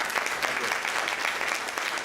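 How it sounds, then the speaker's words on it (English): Steady, dense applause from a crowd at a gala dinner, honouring a chef, sustained at even loudness throughout with no pauses. "Please give a big round of applause to Chef."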